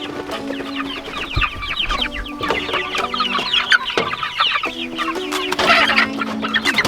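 Several chickens cluck steadily, overlapping in a busy, close chorus with scattered higher bird calls, no talking.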